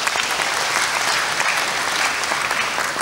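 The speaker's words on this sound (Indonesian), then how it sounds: "Silakan tepuk tangan lagi." Sustained applause from a large audience at a university graduation ceremony, a dense, steady wash of clapping hands filling the hall with no break for the whole stretch.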